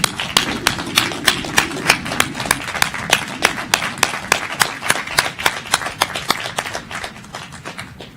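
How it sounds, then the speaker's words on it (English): Sharp, rhythmic clapping from a nearby commencement audience, fairly loud and steady for about eight seconds, with a murmur of voices underneath early on. "Let's give him a round of applause."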